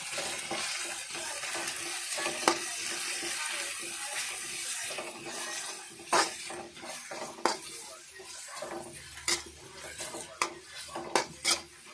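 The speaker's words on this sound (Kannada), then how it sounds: "ಈಗ ನೋಡಿ ಮೆಣಸಿನ್ಕಾಯಿ ಹಾಕ್ಕೊತಾ ಇದ್ದೀನಿ ಹಸಿಮೆಣಸಿನ್ಕಾಯಿ ಸ್ವಲ್ಪ ಹುರ್ಕೋಬೇಕು ಚೆನ್ನಾಗೆ" Green chillies and onion frying in a pan for veg fried rice, a steady close sizzle with scattered clinks and scrapes of a spoon stirring, growing busier toward the end.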